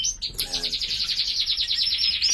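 A young lizard canary chirps close by, a rapid, even run of bright high tweets after a brief opening note, clear and alone.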